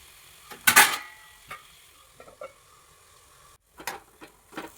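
Chopped tomatoes sautéing in a pan for a Kerala-style brinjal (vazhuthananga) masala curry, with a louder burst of stirring and scraping near the start and a few quieter spoon clinks later on, all close and free of talk.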